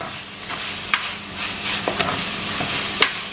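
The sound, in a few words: mutton roll filling sautéing and sizzling in a pan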